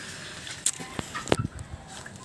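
A gold-colored brooding hen sitting on an egg gives a few soft, scattered clucks and low croaks, close and quiet, with a brief sharp note among them.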